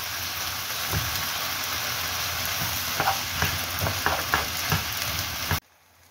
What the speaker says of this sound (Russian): Устричный соус. Добавляем сосисочки.